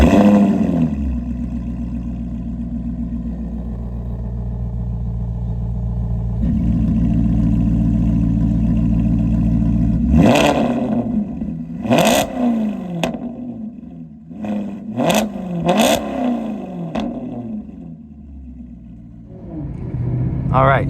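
A Maserati GranTurismo MC with a naturally aspirated V8, idling with a deep rumble, then blipped in a series of loud, sharp revs that rise and fall, close by, with a voice heard at times.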